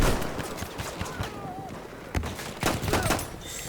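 Sniper rifle fire in the video game Battlefield 1 beta on a conquest map: sharp cracks amid a busy, noisy battlefield of distant gunfire, with game voices mixed in.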